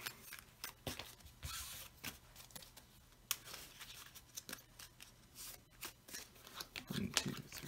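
Close, quiet riffling and snapping of a deck of cards being shuffled, in irregular bursts with brief pauses between.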